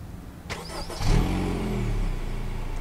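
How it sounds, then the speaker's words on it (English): A 2019 Honda Civic Sport engine starts remotely from the key fob, a short cranking burst followed by a steady, low idle rumble that settles in close by, with no talking. "only Honda gives you remote start on the fob"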